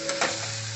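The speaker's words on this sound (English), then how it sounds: "as the mushrooms are frying up here" Quartered mushrooms frying in butter with garlic make a steady, close, sizzling hiss in a pan, with a brief stirring scrape early on.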